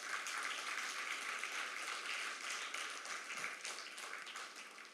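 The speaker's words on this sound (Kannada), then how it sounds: "ಹೆಗ್ಡೆಯವರಿಗೆ ನಿಮ್ಮೆಲ್ಲರ ಪರವಾಗಿ ಒಂದು ದೊಡ್ಡ ಚಪ್ಪಾಳೆ ಕೊಡಬೇಕು." An audience applauding at a youth music concert at Seva Sadan, Bangalore: dense, sustained clapping from a crowd in a hall, fairly distant and even, tapering slightly at the end.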